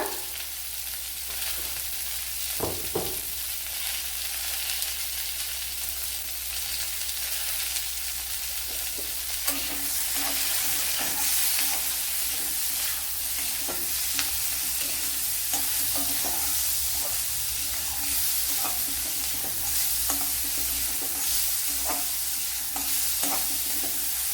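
Shallots and a small onion with salt fry in a pan for a Kerala drumstick recipe, a steady close sizzle broken by repeated scrapes and stirs of a spoon, with no talking.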